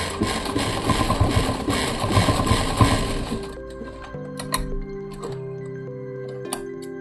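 A sewing machine stitches a pocket onto a child's pants, its motor whirring in a dense, steady burst for the first few seconds, then slowing into shorter, uneven runs of clicking and humming mechanism.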